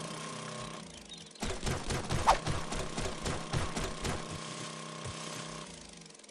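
Heavy mechanical drilling from an auger in the video game 7 Days to Die, a loud continuous grinding rattle that starts after a short lull and runs for several seconds before tapering off.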